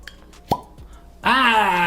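A cork pops sharply out of a Pappy Van Winkle Lot B bourbon bottle in a single close, clean plop, after which a voice exclaims loudly and continues over it.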